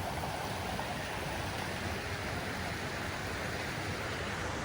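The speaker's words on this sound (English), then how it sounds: "A little bit of rapids, but not too much." River rapids in Marinette County rush steadily in a broad, even roar that stays close and constant throughout, with no voices.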